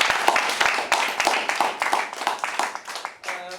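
An audience claps for a student speaker at an intraschool debate at Highscope School, Ojodu, Lagos. The clapping is dense, steady and close, with many sharp overlapping claps throughout and no talk over it.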